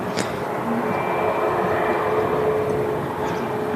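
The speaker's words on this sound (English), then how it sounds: "There is an aircraft rolling on the runway. I think it's the EasyJet we've seen taxiing out earlier." Steady distant roar of an EasyJet jet rolling down the runway at Manchester Airport, continuous and moderately loud with faint tonal whine and no talk.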